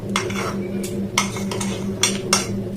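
Water splashes and sloshes inside a mixer grinder jar as it is rinsed in a kitchen, with several sharp clinks and knocks against the jar over a steady low hum.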